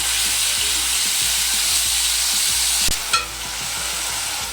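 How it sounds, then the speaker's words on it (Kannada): Sagu gravy fries and gets stirred in a pan with a loud, continuous sizzle, broken near the end by one brief metallic scrape of the spoon. "ಇದನ್ನ ಚೆನ್ನಾಗಿ ಫ್ರೈ ಮಾಡೋಣ, ಮಿಕ್ಸ್ ಮಾಡೋಣ"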